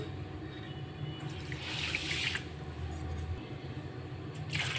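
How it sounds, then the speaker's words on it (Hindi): Two glasses of water are poured into a kadhai (wok) already holding sugar, producing a faint, soft splashing pour that briefly grows a little louder before fading out. "2 गिलास पानी डालेंगे।"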